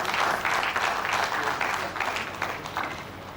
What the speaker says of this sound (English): I think the two universities deserve a round of applause.